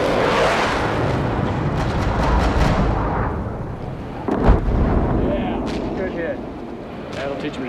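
Artillery fired at a target in a combat zone: a rumbling boom with a sharp heavy thump midway, while a voice talks over the distant roar.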